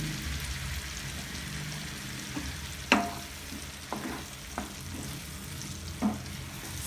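Paneer butter masala ingredients sautéing in a pan with a low steady sizzle, broken by a few louder scraping stirs near the close; no voices.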